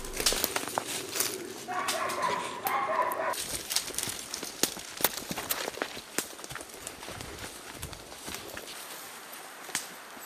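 A hunting dog barks at a squirrel out in the woods, giving repeated sharp barks at middling distance, with a crackle of rustling and footsteps underneath and a brief voice early on.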